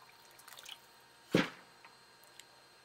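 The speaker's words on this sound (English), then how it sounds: "I will pour my water." Water is poured into spelt parsley bread dough, giving one brief wet splash and squish near the middle, with faint drips before and after in a quiet room.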